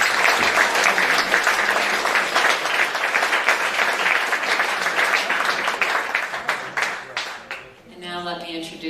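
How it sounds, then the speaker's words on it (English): Audience applause at an Art and Soul 2019 speeches event, loud and steady clapping that thins and fades toward the end as a voice begins speaking. "Big round of applause for Mr."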